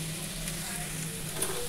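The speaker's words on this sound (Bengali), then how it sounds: "আলু ভাজা, সুন্দর করে ভেজে নিলাম, অল্পই তেলে ভেজে নিয়েছি" Potatoes frying in a small amount of oil give off a steady, even sizzle that holds close and constant throughout, with no voices over it.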